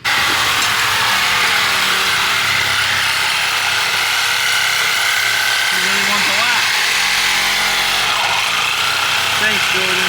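A BMW E36 drift car with an ISR exhaust runs loudly and steadily, its dense engine drone holding for the whole stretch with no pauses.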